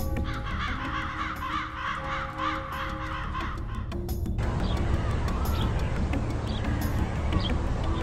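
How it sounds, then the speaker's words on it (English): A crow in Israel caws in a rapid, rhythmic series of harsh calls over steady background noise, then the calls stop and a broad hiss of wind or ambience takes over. "Take a look at this Jewish crow from Israel."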